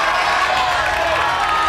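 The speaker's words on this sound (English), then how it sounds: "The crowd is going crazy." Crowd cheering and shouting at the Gravity Bowl 8 climbing competition in Cape Town, a steady, dense wall of roaring voices held at full level throughout, with no break in the noise.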